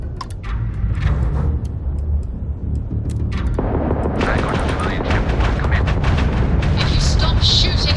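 Ship-mounted weapons firing in Starfield, a loud barrage of rapid gunfire and booming blasts that intensifies midway, with speech mixed in.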